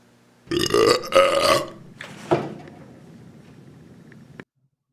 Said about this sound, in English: was awoken by obnoxious, loud burps